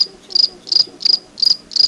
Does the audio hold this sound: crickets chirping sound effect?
yes